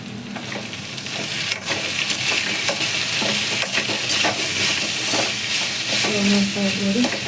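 Ivy gourd (tondekayi) fries in a pan for a Mangalore-style sukka, giving a continuous close sizzle broken by repeated scraping stirs, steady and loud throughout.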